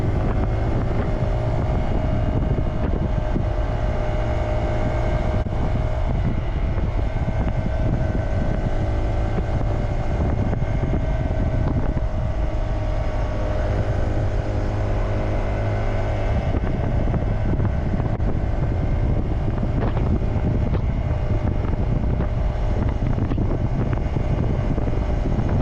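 Honda Grom motorcycle riding along a main road, heavy wind buffeting the microphone over a steady low engine drone, continuous and loud for the whole stretch.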